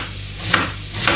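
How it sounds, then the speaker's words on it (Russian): A knife makes two sharp chops against a cutting board, about half a second apart, heard up close, cutting vegetables into medium pieces. "Сейчас я порежу так средненько, не очень мелко."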